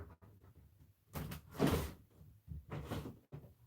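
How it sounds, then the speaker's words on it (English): A drawer slides open in a room, two short scraping rattles with the louder one near the middle, followed by a second softer slide. "Open a drawer."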